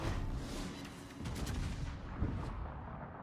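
Heavy naval guns booming from warship turrets in World of Warships, a dense rolling roar of blasts and rumble filling the clip without pause, with louder peaks around the middle.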